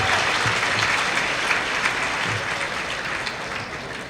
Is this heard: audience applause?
yes